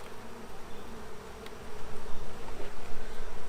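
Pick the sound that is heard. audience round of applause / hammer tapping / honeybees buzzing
honeybees buzzing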